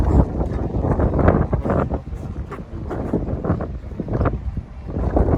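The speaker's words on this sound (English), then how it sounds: "Oh God, it's windy." Strong wind buffets the microphone in continuous gusts, a loud low rumble that surges and eases throughout.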